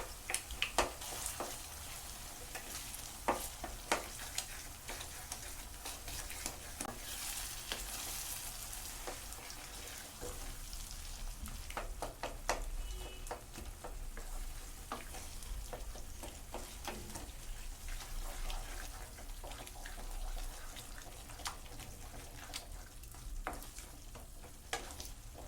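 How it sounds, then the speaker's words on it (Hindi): Goat brain (bheja) fries in a pan while a spoon mashes it into small pieces, giving continuous sizzling under dense bursts of scraping and tapping; close, steady throughout, no voices. "हम चम्मच की हेल्प से इस तरह इसको बारीक कर लेंगे"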